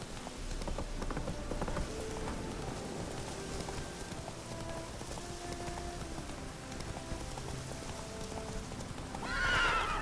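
Roach, the horse in The Witcher 3, gallops through rain with rhythmic clip-clop hoofbeats and occasional whinnies over a steady patter of rainfall, a sharp burst of splashing noise rising near the end.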